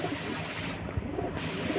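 Silver pigeons cooing softly in a loft, a steady low murmur of several birds with a few brief louder coos, close by and without talk.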